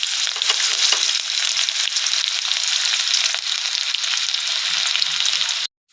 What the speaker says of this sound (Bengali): দেখো পেঁয়াজটা ভাজছে